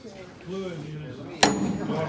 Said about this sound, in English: hit it with a hammer and just tap it